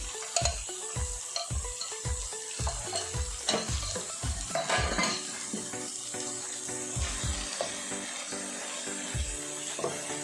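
Goat brain from a goat head frying in oil, a soft continuous sizzle beneath a run of rhythmic spoon knocks and scrapes as it is stirred, close and fairly quiet.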